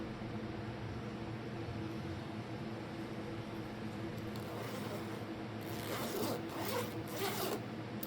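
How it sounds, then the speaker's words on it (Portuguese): Zipper on a handmade crocheted cargo baguette bag being worked open and shut, a soft steady rasping under room noise, growing into several quicker, louder zips near the end. "Já costurei o zíper e ficou assim."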